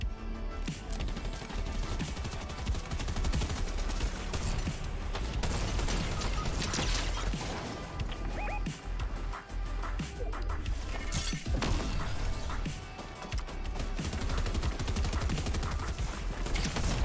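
Dense, sustained gunfire in a Fortnite Zero Build match, with rapid bursts, crashing impacts and debris clatter layered continuously, loud and near.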